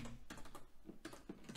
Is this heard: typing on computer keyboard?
yes